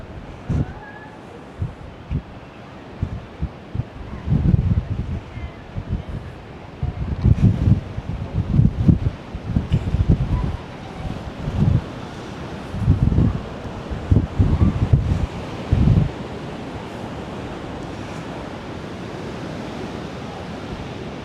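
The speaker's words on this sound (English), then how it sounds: "the wind is blowing like crazy up here" Strong wind gusts buffet the microphone at the Malahat SkyWalk lookout on Vancouver Island, loud rumbling bursts rising and falling in waves over a steady airy roar, with faint voices in the background.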